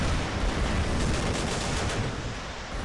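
Heavy weapon fire from mech robots in the battle game War Robots, a dense continuous barrage of blasts and rumble with no pauses, loud and close throughout.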